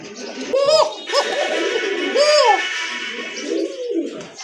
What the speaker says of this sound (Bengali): কোকা কবুতর আকাশি কালারের ভিতরে সম্পূর্ণ রানিং কবুতর কিন্তু এগুলো মাসাল্লাহ এটা কিন্তু খুব ভালো ডাকে